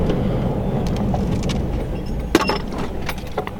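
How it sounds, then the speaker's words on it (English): A V8-powered 2009 Hummer H3T pickup brakes to a stop on a test drive, with a low road and engine rumble, a few light clunks and rattles, and one sharp knock partway through. "I'm going to do brakes right here."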